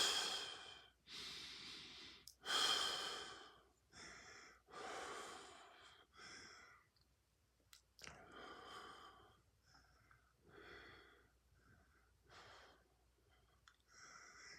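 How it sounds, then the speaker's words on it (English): Slow, deep breathing during a yoga stretch with the head on the ground and one leg bent, a steady run of long inhales and exhales heard close and alone. "Nice long deep breathing in and out here."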